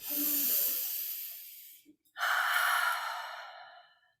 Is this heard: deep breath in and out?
yes